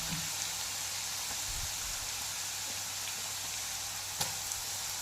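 Grated carrot and beetroot sizzle in oil over a low flame as a homemade skin oil cooks: a steady, even frying hiss throughout, with one faint tick near the end.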